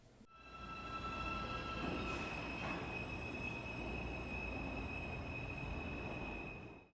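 A New York City Subway F train running in Manhattan: a steady loud rumble of wheels on track with thin, sustained metallic squeals riding over it, with no voices.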